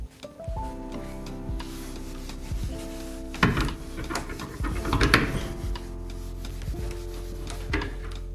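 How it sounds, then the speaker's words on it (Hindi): Writing being rubbed off a board in a maths class, a series of close scraping, brushing strokes with short pauses between passes. "तो इसको मैं रब कर देता हूँ।"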